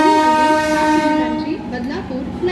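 The Mumbai–Nagpur Duronto Express sounds a loud, sustained horn blast close by as it runs through Kalyan Junction without stopping; the horn fades slightly toward the end.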